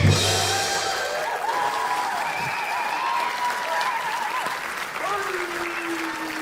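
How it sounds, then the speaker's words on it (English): Applause from a launch-show audience greets a man walking onto the stage, a steady wash of clapping that fills the room at an even level, with some voices mixed in. "please give a very tentative and mediocre round of applause for John Ramsden"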